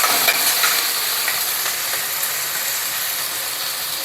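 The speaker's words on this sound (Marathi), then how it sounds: "फोडणी छान परतून घ्यायची आपल्याला" A tempering of mustard seeds, cumin, chilli, curry leaves and grated ginger sizzles in a pan with a steady hissing fry and light stirring scrapes, with no talking.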